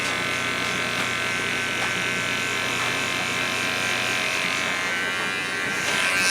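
Electric hair clippers fitted with a closed 1-guard buzzing steadily up close while cutting hair for a shadow fade, a continuous loud drone that stays even throughout.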